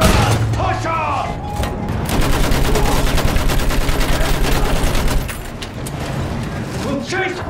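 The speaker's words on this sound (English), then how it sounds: "Use that machine gun. Mow them down." Machine gun fire in the World War I shooter Battlefield 1, a sustained rapid stream of loud, close bursts that hammers on for several seconds amid booms and battle noise, with voices shouting over it.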